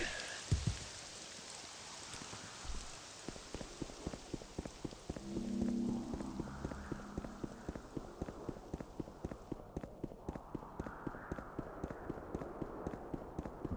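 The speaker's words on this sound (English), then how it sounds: "It's raining" Steady rain hiss in The Elder Scrolls III: Morrowind, with a dense, even wash of falling drops under a regular run of soft tapping beats and a brief low swell partway through.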